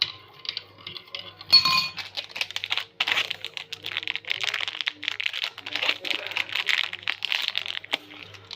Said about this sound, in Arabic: هنحط معلقة سكر